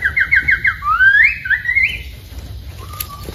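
Person in a hilly forest imitating a bird call, a run of rapid whistled chirps followed by rising and falling warbled whistles, close and clear, then a faint short whistle.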